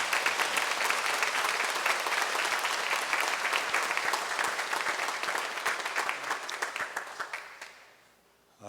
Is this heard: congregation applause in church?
yes